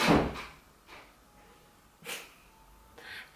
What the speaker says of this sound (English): was the door.